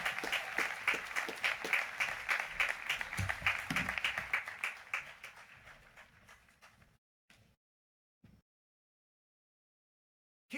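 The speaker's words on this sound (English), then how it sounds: "Keep cheering so it doesn't get awkward." A graduation ceremony audience applauds loudly with scattered cheers, the clapping thinning and fading over several seconds into a few isolated claps and near silence.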